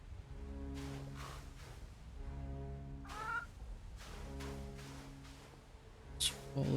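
A chicken clucks in the video game REKA, with a run of short, repeated calls mixed among other game sounds at moderate level.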